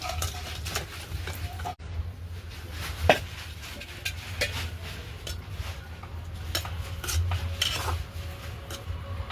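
Bengali tengra fish curry with data stems, potato and eggplant is emptied from a pan, a utensil scraping and clattering against the metal in quick irregular strokes, close up over a low background hum.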